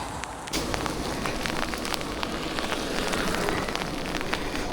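Steady rain falling outdoors, a dense hiss of drops pattering on surfaces that jumps louder after a brief quieter start and stays constant, with no voices.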